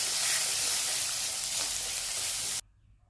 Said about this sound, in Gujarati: સૂકું લાલ મરચું, આદુ મરચાં લસણની પેસ્ટ બધું સાતરી લઈશું અને 2 જુલિયન કટ કરેલી ડુંગળી એને પણ સાતરી લઈશું।